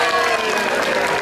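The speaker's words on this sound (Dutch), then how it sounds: "je mag even applaus geven!" An audience at the Efteling theme park claps for Ko the gnome at his birthday show, a dense, steady wash of applause throughout the short moment.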